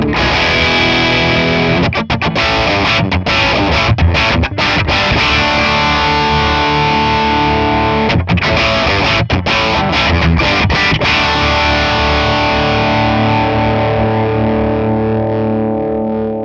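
An electric guitar plays through a ToneX amp capture with effects off, giving a loud, continuous distorted tone with strummed chords, sustained notes and a few short choppy rhythmic stops.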